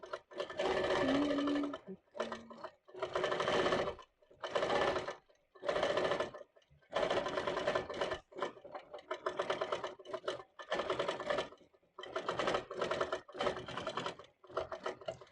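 A Moxie ST 18-inch stationary longarm quilting machine stitches in bursts, its steady mechanical hum starting and stopping repeatedly with short pauses between runs, moderately close.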